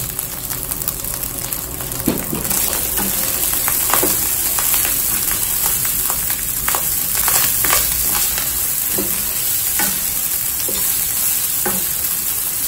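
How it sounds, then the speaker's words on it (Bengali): Lemon rice with turmeric and salt being stirred in a pan, with steady sizzling and repeated scraping strokes of a spoon across the pan throughout. "ভালোভাবে নেড়ে চেড়ে নিব।"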